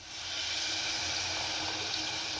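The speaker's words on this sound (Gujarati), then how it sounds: "હવે આપણે આની અંદર થોડુંક પાણી નાખીશું" Water poured into a spice mixture of chilli powder and squeezed lemon for Kutchi khari bhat, a steady close splashing gush with no talk.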